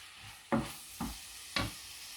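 Onions fry in virgin oil in a pan beneath a steady soft sizzle, with three distinct stirring scrapes landing at roughly half-second intervals, close and clear with no talking.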